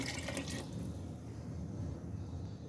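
Water pours in a steady, splashing stream into a pot of chicken kofta curry, with a brighter gush at the start settling into a continuous rushing flow.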